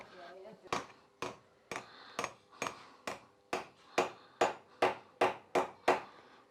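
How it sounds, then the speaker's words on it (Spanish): Steady hammer strikes driving nails into a handmade albarca sandal cut from tractor and car tyre rubber, about fourteen sharp, close blows in an even rhythm that speeds up slightly toward the end. "Vamos a clavar el segundo que nos falta, la parte de adentro, que no se nos doble"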